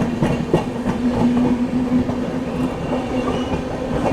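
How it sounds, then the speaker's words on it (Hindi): Prayagraj Express, hauled by a WAP-7 electric locomotive, rushes past at high speed with a steady roar and continuous clickety-clack of wheels on rail, loud and close throughout, with a faint steady hum underneath. "फिलहाल गोविंदपुर स्किप कर रही है अपनी प्रयागराज एक्सप्रेस।"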